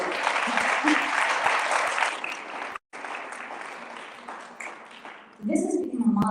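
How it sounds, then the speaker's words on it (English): Applause rises from the crowd at a 2022 Disability Section awards ceremony: dense, continuous clapping that cuts out abruptly, resumes more thinly, then swells again as a voice begins speaking over it. "a round of applause for that, sure"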